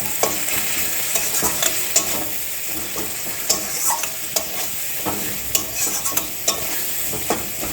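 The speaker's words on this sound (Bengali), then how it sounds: "চলো এটা ভালো করে মিক্সড করে নেওয়া যাক" Turmeric and masala get stirred steadily through sizzling oil in a frying pan, a spatula scraping and tapping the metal in a continuous close-up rhythm over constant frying hiss, with no talking.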